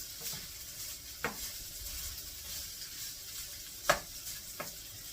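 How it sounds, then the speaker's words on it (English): Spam hotdish is stirred in a pan, with quiet scraping and a soft sizzle broken by a few sharp spoon knocks against the pan, all fairly faint and without speech. "I'm going to stir this up a little bit."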